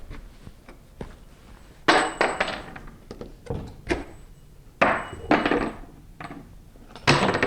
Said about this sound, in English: Next thing I'm going to do is pull the pins out of the door